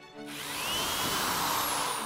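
A handheld power drill bores a 7/64-inch hole in a plate, making a close, continuous high whine that swells and holds steady for about two seconds.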